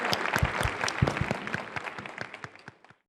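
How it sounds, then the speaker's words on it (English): An audience applauds to welcome the Governor of Veracruz at a videoconference event, with a short burst of clapping that starts strong and tapers off within a few seconds. "please give a warm round of applause to welcome the Honorable Governor of the state of Veracruz"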